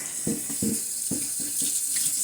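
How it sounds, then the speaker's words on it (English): Tap water runs steadily into a kitchen sink while soapy dishes are rinsed under it, with a loud continuous hiss and several splashy bursts as items pass through the stream. "Rinse the soap off in any order you want."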